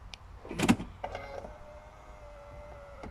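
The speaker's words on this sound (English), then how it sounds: "Now I'm going to open the doors and the mirror opens." A Range Rover's automatic folding door mirror whirs as its motor unfolds it, following a short clunk close by, then a thin steady electric hum that fades out.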